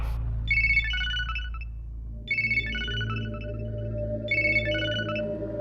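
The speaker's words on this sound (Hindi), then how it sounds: "भाई रिंग बज रही, वो उठा नहीं रहा है।" A phone ringtone plays three short melodic bursts, evenly spaced and unanswered, over a low steady hum.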